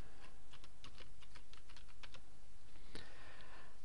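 Computer keyboard typing an organization name, with a quick run of light key taps over steady background hiss, then a brief louder clack near the end.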